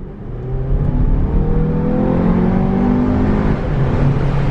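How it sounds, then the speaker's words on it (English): Audi Q3 small SUV accelerating on the road, its engine rising steadily in pitch under a steady rush of road and wind noise, heard from inside the car with no talk. "we're gonna put our foot down just a little bit here"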